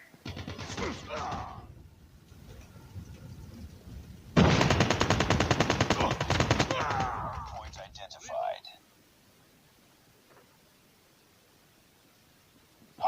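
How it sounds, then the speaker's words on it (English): An AK-74U fires in Call of Duty: Mobile, a sustained loud automatic burst of about four seconds following brief game voice lines, then fading into quiet. "The top 4 in the list is AK-74U."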